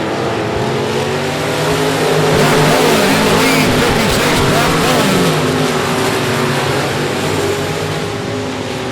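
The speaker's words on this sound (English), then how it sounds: "Here comes Johnny Torres trying to grab the lead in the 66" Race cars roar around the oval at I-37 Speedway in a dense, sustained engine drone that swells as the pack passes close, loud throughout with no gaps.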